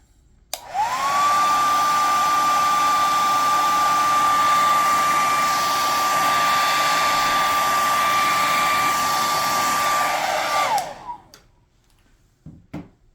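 A hair dryer blasts hot air over anime figures, a loud steady whine and rush of air running about ten seconds before cutting off, followed by a few faint clicks and handling noises.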